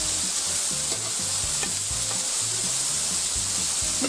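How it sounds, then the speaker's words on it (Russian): Mushrooms fry and sizzle in a very hot pan while being stirred, with a constant hiss and repeated scraping stir strokes up close and no voices. "жарятся на очень раскаленной сковородке"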